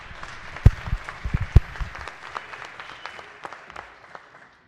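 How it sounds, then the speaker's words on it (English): Scattered applause rises on the Maryland House of Delegates floor during a session honoring a doctor, with a few sharp claps up front, then a looser patter that fades away. "So please give her a big round of applause"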